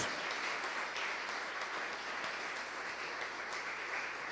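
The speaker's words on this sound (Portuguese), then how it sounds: "Você pode aplaudir àquele que é o amado das nossas almas." A church congregation applauding together, steady dense clapping that holds at an even level throughout, broad and reverberant with no talk over it.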